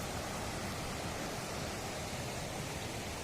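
A river flowing through the Uttarakhand hills sends up a steady, dense rush of water that stays broad and unchanging throughout, close and loud, with no voices or other sounds breaking through.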